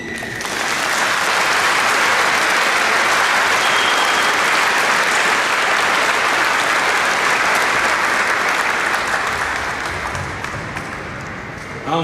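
Loud, sustained applause from a congregation fills a basilica during a farewell mass, steady and dense for about eleven seconds before tapering slightly at the end.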